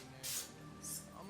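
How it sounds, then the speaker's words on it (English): A facial water mist bottle gives two short sprays about half a second apart, close up and fairly soft, in a quiet indoor setting. "spray a couple sprays"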